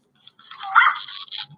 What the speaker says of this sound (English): so that he can remember the sound of his dog